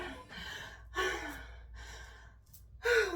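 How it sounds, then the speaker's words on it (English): During a yoga session, a person draws several slow, deep breaths, each audible inhale and exhale rising and falling close to the listener against a quiet background. "Take a deep breath."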